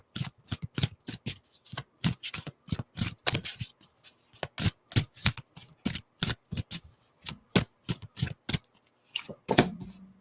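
Luna Tarot cards shuffled by hand in a steady run of crisp, rapid riffles and flicks, close and fairly loud, continuing for the whole stretch with no talking.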